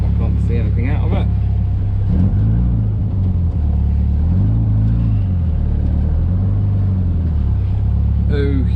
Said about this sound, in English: we've now got to negotiate that massive flood